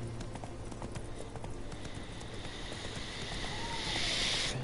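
Steady clip-clop of horse hooves as Roach is ridden in The Witcher, a quick even rhythm of hoofbeats over soft wind and ambient game sound.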